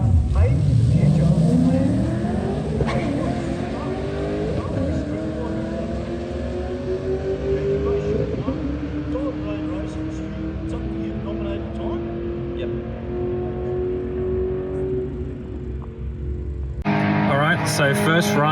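Race car engine roaring loud and close through a drag strip run at night, pitch climbing through gear changes across a long sustained pull before cutting off, then a brief burst of other noise at the end.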